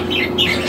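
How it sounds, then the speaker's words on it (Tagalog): A young checkered pigeon, about three months old, gives short squawking calls close by, two quick rasping cries within under a second. "Maliit na ibon lang oh."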